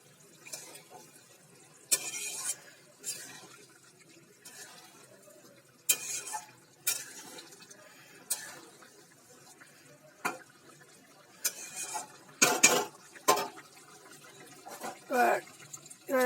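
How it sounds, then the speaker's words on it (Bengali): Garam masala being stirred in homemade ghee in a pan: scattered scraping and clattering stirs with soft sizzling between them, irregular bursts over a quiet background, with a person talking at times. "বাড়িতে বানানো একটু ঘি আর দিয়ে দেবো গরম মশলাগুলো। এবার এটাকে একটু নেড়ে চেড়ে"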